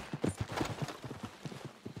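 Steady clip-clop of horse hooves in Red Dead Redemption 2, a quick even trot heard close under faint background sound.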